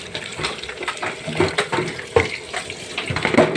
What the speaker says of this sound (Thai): สระแหน่มาสระแหน่สดจากตลาดนำมาล้างก่อน